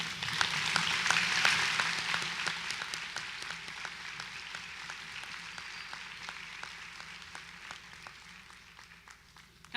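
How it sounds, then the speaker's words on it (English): Graduates at a Gavilan College graduation ceremony applaud in a dense, sustained wash of clapping from a large crowd, loudest at the start and slowly thinning over about ten seconds, with a few individual claps standing out. "please give yourselves a round of applause for me right now"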